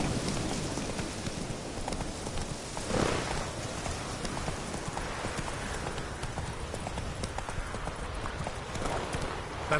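Horse hooves galloping in The Witcher 3, a steady rapid clip-clop rhythm that runs close and loud through the whole stretch over a busy game soundscape.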